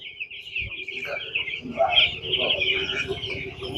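Chickens chirp and cluck continuously in a busy poultry shed on a large farm, with a person talking over the flock.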